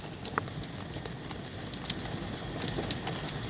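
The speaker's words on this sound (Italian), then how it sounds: "ormai è quasi completamente pioggia" Steady rain after a hailstorm pattering on a surface, with occasional heavier drops standing out against the constant wash.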